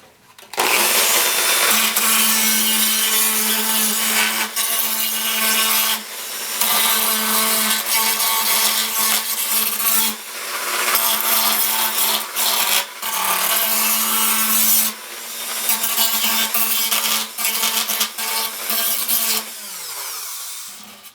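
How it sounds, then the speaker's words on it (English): Dremel rotary tool grinding the rough inside edge of cut plastic tubing for a DIY vented litter box, a loud continuous high whine in long bursts with brief pauses between passes, no talk. "I'm gonna just grind off the inside here so it's not so rough and it won't cut me up."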